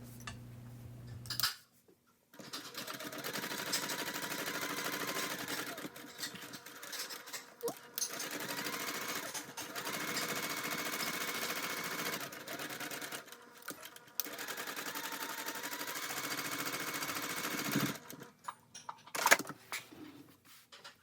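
A sewing machine bastes the layers of a fabric bag together in several long, steady runs of fast mechanical stitching, fairly faint, broken by brief pauses and small clicks.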